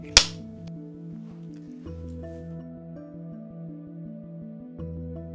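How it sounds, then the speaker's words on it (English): A single sharp hand clap rings out at the start of an interview, close and loud, before sustained low musical tones continue alone. "And then I'll clap."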